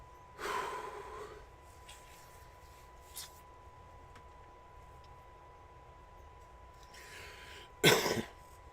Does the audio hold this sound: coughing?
yes